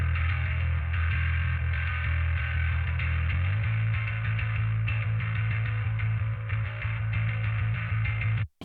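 A bass line sits in a dense rock mix processed with EQ, a compressor and a Loud Max limiter, heavy and sustained low notes shifting pitch midway under full band energy, loud and steady until a sudden cutoff.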